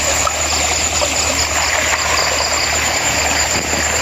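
A small river runs steadily after rain, its murky water making a continuous close rushing and trickling wash that stays loud and even throughout, with no voices.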